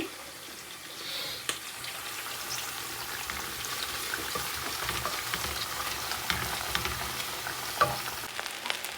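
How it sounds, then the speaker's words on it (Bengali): Onions with spices frying in oil for masoor dal khichuri, a soft steady sizzle with occasional clinks of stirring and trickling water, close and fairly quiet. "পেঁয়াজ দিয়ে দিচ্ছি তেলের ভিতরে"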